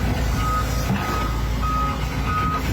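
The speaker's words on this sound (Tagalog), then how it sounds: "ingay ng backhoe." Heavy machinery from a backhoe at a landslide rescue site rumbles steadily, with repeated reversing beeps sounding at intervals over the loud, constant engine noise.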